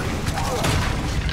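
Confringo and Bombarda spell blasts in Hogwarts Legacy combat land as rapid booming impacts and crackling bursts, loud and close, overlapping one another with a voice calling out over them.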